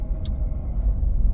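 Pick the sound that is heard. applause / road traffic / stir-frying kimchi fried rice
road traffic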